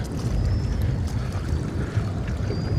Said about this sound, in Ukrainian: Волна закидає в лодку.